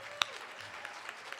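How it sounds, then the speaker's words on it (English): Applause from a conference audience for sponsors: faint, scattered claps with one sharper nearby clap early, then a few softer individual claps over a quiet background. "So just a big round of applause to all of our sponsors."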